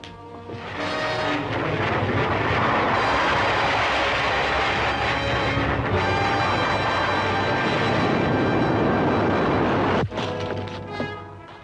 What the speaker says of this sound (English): I'll fly out the rocket and try it.